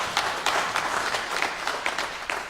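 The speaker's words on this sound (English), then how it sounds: "I think they also deserve a round of applause." An audience at a university book launch gives steady applause for the book's editors and writers, a dense even patter of many hands at moderate distance.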